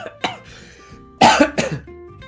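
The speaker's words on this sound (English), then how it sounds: "I was going to quickly cough." Two sharp coughs in close succession near the microphone, preceded by softer throat sounds and followed by quiet room tone.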